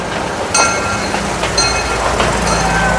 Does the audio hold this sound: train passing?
yes